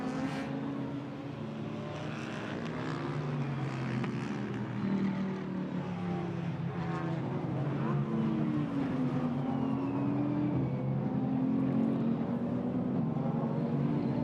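Chevrolet and Alpine GT4 race cars lap the Paul Ricard circuit, their engines droning steadily with rising and falling pitch sweeps as they pass, heard continuously at a moderate distance.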